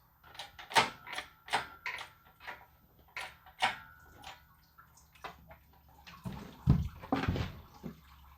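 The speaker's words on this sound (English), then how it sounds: "Oh, more coolant because I didn't pull this side block drain." Coolant draining from the side block drain of a turbo small block Mopar engine that has sat for years, heard as uneven dripping and splashing bursts, fairly close, getting heavier and lower toward the end.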